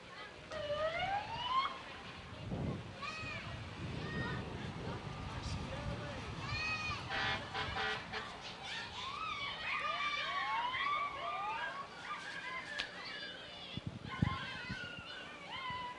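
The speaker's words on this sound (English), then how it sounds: "I hear a siren." A siren wails at the start of a county fair parade, rising and falling sweeps heard at a distance over a busy outdoor crowd, with people talking throughout.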